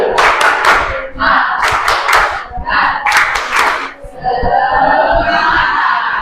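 A group of students at an outdoor school session claps a rhythmic 'tepuk semangat' cheer, loud close bursts of patterned clapping with shouted voices, then looser clapping and chatter.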